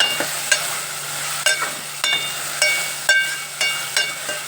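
Broad beans (chikkudu) sizzling in a pan, with repeated sharp stirring clinks and scrapes of a utensil at a steady pace over a continuous frying hiss, close and fairly loud.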